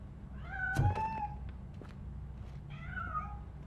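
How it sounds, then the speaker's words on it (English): A cat in RoboCop Rogue City meows twice, near and clear, the two calls separated by a quiet gap with faint background hum. "That cat must be hiding inside"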